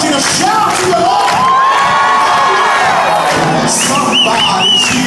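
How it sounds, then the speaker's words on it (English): Worship congregation shouting to the Lord in church, a loud, sustained roar of many voices cheering, whooping and crying out together, with high excited shouts rising above the crowd. "I want you to shout to the Lord."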